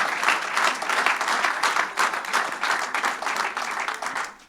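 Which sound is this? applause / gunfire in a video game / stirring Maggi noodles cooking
applause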